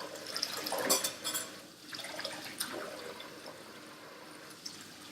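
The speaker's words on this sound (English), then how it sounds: "I'm going to wash my hands one more time" Running tap water with splashing as hands are washed under it, dripping and sloshing close by, louder at first and then settling to a steady low trickle.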